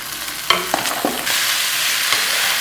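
Onion and tomato hit okra frying in ghee, with a few clattering knocks as they drop in, followed by a loud, steady sizzle.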